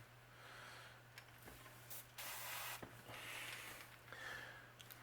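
Short hissing bursts of an aerosol spray can applying yellow paint to a crankbait lure, several quick sprays in a row with brief pauses, close and fairly soft over a low hum.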